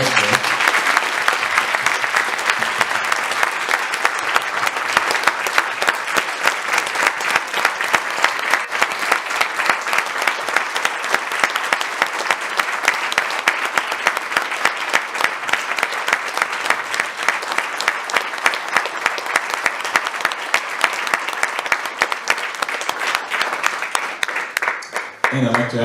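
An audience at a Buddhist talk on emotional healing gives panelists a long, loud, sustained round of applause, dense clapping lasting nearly half a minute before tapering off.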